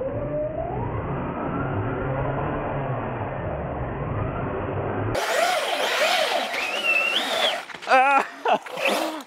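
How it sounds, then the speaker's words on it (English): A small RC truck's electric motor whines and revs steadily while straining in a tug of war against a person, then the pitch sweeps and wavers as the load shifts, with brief vocal shouts near the end. "the RC car will be pulling with four times its original pulling power"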